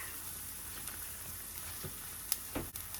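A pot of liquid for fish sarciado bubbles and simmers with a soft, steady sizzling hiss, faint and continuous, broken by a couple of small clinks near the end.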